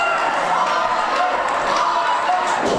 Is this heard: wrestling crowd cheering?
yes